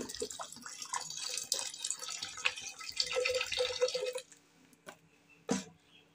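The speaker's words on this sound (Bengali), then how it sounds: "ডাল দিয়ে দিলাম, এবার জল দিয়ে দেবো।" Water poured into dal in a cooking pot, a continuous splashing trickle for about four seconds, then a couple of isolated clanks and a quieter drip, close by.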